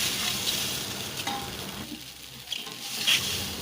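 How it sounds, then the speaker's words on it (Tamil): Milk is poured and stirred into fried mustard seeds, sesame and prawn powder in a hot pan, making loud sizzling with a spoon scraping and swishing up close, then settling to a softer bubbling hiss. "அவிச்சு வச்சுருக்க அந்த பாலெல்லாம் கொட்டி நல்லா கிண்டிக்கலாம்"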